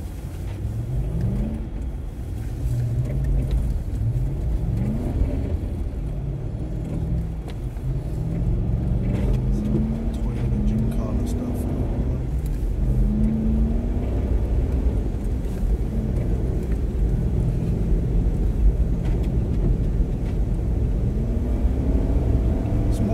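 A plow vehicle drives a snowy winter road near Clearwater, BC, its engine rumbling steadily and rising and falling in pitch as it shifts and accelerates, with someone talking at times over it.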